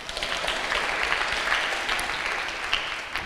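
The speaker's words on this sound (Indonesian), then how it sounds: "Tepuk tangan untuk beta kampus." Audience clapping at an open-mic comedy show, steady moderate applause from a crowd filling the space evenly, with no talk over it.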